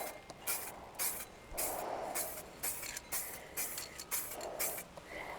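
Duplicolor filler primer sprayed from an aerosol can, repeated short hissing bursts of about half a second each in an uneven rhythm, close and fairly quiet.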